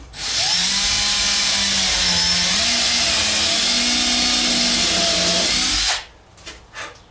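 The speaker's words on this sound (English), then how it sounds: "And countersink it just slightly." A power drill countersinks a hole in a DIY travel trailer kitchenette build, a steady loud whine running for about six seconds with slight pitch dips under load, then stopping, followed by a few faint knocks.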